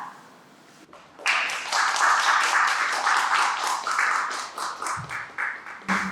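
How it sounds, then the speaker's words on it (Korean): Audience applause welcoming research presenters to a talk on eco-friendly CNF materials, starting suddenly after a quiet moment, then steady crowd clapping that tapers into scattered, uneven bursts near the end. "나오실 때 큰 박수로 환영해 주시기 바랍니다."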